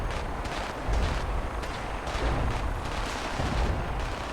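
Missile launchers fire in a shooter video game, a dense barrage of heavy booming blasts and rumbling explosions that pound in quick succession, loud and continuous with no voices over them.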